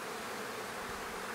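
Honey bees swarm busily around a hive container on its sunny side during sunflower forage, making a dense, steady buzzing hum that stays close and even throughout.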